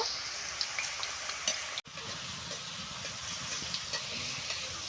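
Homemade potato chips fry in oil with a steady, dense crackling sizzle that briefly cuts out partway through, then continues alone with no talking.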